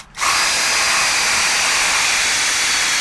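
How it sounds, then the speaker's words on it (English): Soil auger drill boring into frozen winter ground, a sudden loud continuous power-tool whine and roar that starts abruptly and holds steady and close, with no talk. "As you can see, it spits the dirt up, and then when you bring the drill bit up, it augers quite a bit of it up into the container"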